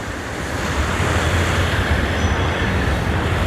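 Rushing water of a creek in the Hell Creek Cave natural area of Arkansas, a loud, steady broadband roar with no breaks and no voices.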